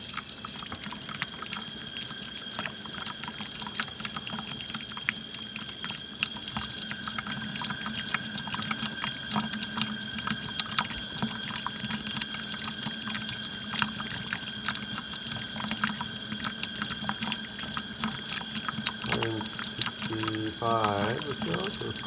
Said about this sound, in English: This water coming out.